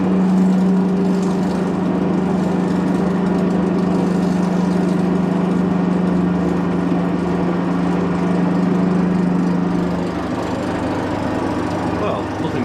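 A Harrison L5 lathe motor runs with a steady, even hum and a low drone throughout, fairly loud and close, easing slightly near the end.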